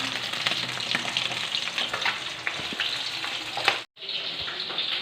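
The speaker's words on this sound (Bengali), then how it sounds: "এই যে মাছ ভাজা হলো আর এদিকে খানিক কটা ভাজা হচ্ছে" Rohu fish pieces fry steadily in hot oil, a dense continuous crackle and sizzle with scattered pops, broken by a brief sharp dropout near the end before the frying resumes.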